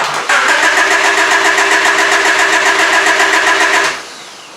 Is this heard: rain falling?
no